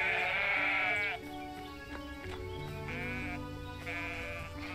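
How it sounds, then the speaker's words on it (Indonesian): Sheep in the farming game Everdream Valley bleat several times, loud and close, the calls overlapping above a steady tonal music bed with no talk. "ini dombanya larinya kenceng sekali, teman-teman"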